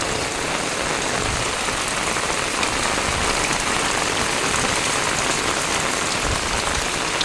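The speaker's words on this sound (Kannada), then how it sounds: "ನೋಡ್ಬೋದು ಮಳೆ ಯಾವ ಥರ ಬರ್ತಾ ಇದೆ ಕಂಟಿನ್ಯೂ ರಾತ್ರಿಯಿಂದ ಮಳೆ ಇದೆ" Heavy, continuous rain that has been falling since the night before, pouring down near flooded river fields as a loud, dense, unbroken hiss of drops drumming on surfaces, with no voices.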